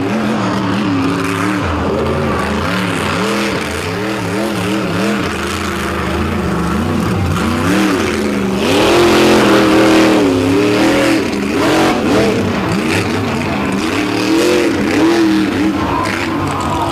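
A monster truck engine revs and roars as the truck drives across beach sand at a motorsport show, loud and close with wavering pitch as the throttle rises and falls, swelling louder midway.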